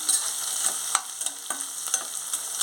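Onions and green chillies sizzle gently in a pan while a spoon stirs and taps the metal in a loose, repeated rhythm, close and steady with no voices.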